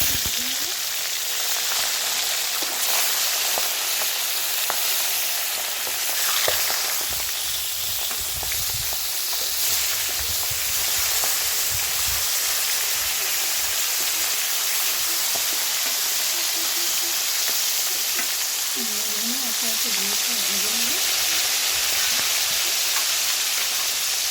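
Pieces of rui fish frying in hot oil, a steady loud sizzle and hiss throughout, with occasional scraping and clatter as the fish are turned over.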